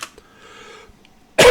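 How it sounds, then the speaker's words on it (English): A single loud, harsh cough bursts out near the end, close to the mic, after a stretch of faint background hum. "I didn't mean to cough in everybody's ears"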